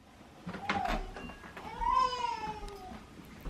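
A kitten meows twice, close by, with a short high cry followed by a longer drawn-out one over a quiet room.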